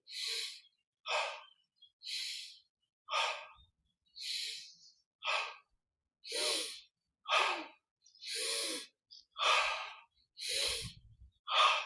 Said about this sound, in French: toujours cette grande respiration